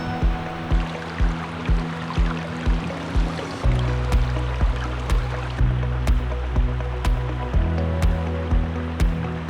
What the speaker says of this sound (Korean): 와, 여기 계곡이 정말 끝내줍니다. 칠보산 계곡